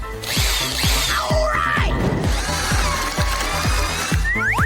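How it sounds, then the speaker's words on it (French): A drill cuts a hole in a chocolate egg with a steady grinding whir, marked by rapid regular ticking pulses and scraping, loud and close throughout. "Maintenant, je vais découper le trou. Je vais le faire avec une perceuse."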